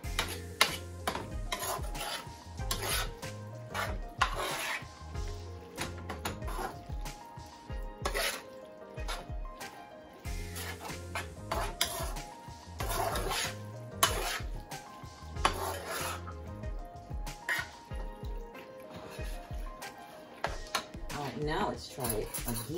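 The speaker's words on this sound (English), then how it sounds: "So let's get it stirred up." A spoon scraping and clattering in a pot while stuffed bell pepper filling is stirred, with a faint sizzle, intermittent metallic knocks and a person talking over it.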